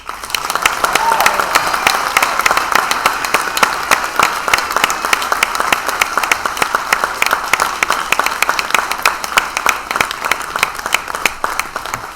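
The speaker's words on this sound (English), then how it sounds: "let's give them one more round of applause." Steady, sustained applause from an audience at a school Hall of Fame induction ceremony, many hands clapping at an even, full level for the whole stretch.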